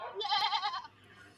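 A goat on a village farm lets out one loud, wavering bleat close by, followed by quiet.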